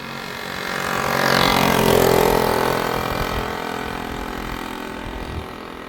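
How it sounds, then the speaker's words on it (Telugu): A scooter engine runs steadily nearby, swelling in loudness toward the middle and then settling into a continuous idle-like hum for several seconds with no voices. "ఆ స్కూటీ సౌండ్ మాత్రం వినకండి"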